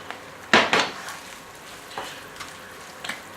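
A utensil scrapes and clinks against a pan while eggs with peppers are stirred, two louder scrapes early, then lighter taps over a faint sizzle.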